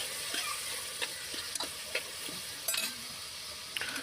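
Soaked peas and rice are stirred in a frying pot for biryani, a steady nearby sizzle broken by several sharp scraping spoon strokes, with no talk.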